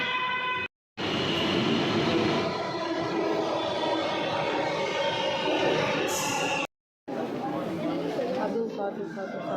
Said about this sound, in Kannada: ಮೆಟ್ರೋ ಬಂದಿದ್ದು. ಸೊ ಮೆಟ್ರೋ ಬರ್ತಾ ಐತೆ.